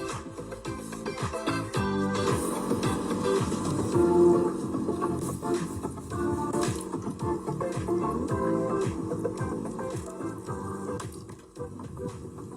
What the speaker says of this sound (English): You literally just connect it to a gas bottle, got some power in the back, and you have a hot shower everywhere.